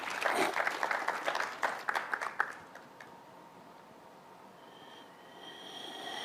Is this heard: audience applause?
yes